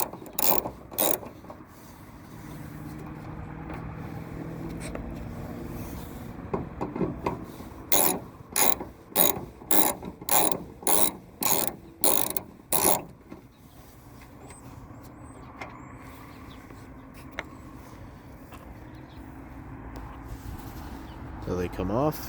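Against a Nissan 200sx B14 exhaust, a hand tool works the nuts loose. It gives a quick run of sharp, evenly spaced metallic clicks and ratcheting in the middle, with quieter scraping and rubbing before and after.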